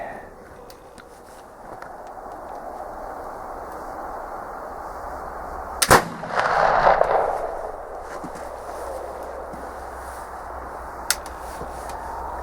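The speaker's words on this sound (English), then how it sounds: "the white hots will work in this flintlock" A flintlock gun fired with white-hot flints goes off in one sharp, loud crack, then a brief hissing rush of ignition. Outdoor background noise continues low before and after.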